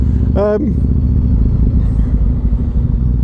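Steady, loud engine rumble from a Yamaha MT-01 motorcycle being ridden home on a spring day, continuous and close throughout, with someone talking over it.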